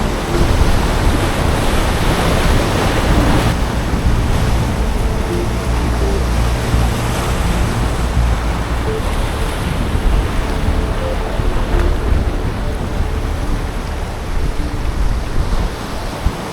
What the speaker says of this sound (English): Really nice swell coming down with a big swell